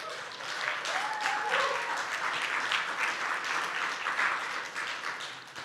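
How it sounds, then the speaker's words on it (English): An audience at a technology cup opening ceremony gives the finalists a warm round of applause, steady, fairly distant clapping that swells and holds for several seconds before easing off. "I want to just sort of give a round of applause to all the people that made it this far"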